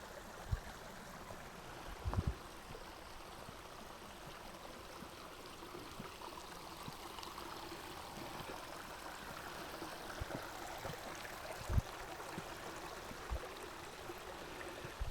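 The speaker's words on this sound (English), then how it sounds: "Cute little, tiny little waterfall. But you can hear the water running here." A tiny waterfall runs in a steady, faint trickle and splash outdoors, with a few soft knocks scattered through it and no voices.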